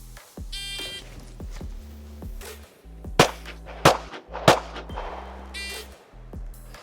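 Three sharp pistol shots from an S&W M&P 2.0 handgun, spaced about a second apart and fired close by, each crack standing out clearly over a low steady hum and scattered clinks.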